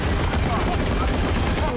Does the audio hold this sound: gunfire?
yes